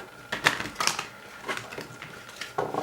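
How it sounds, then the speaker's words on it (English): Large tarot cards being shuffled by hand, a close series of soft riffling slaps and flicks in an uneven rhythm, without speech. "let's shuffle these up a little bit"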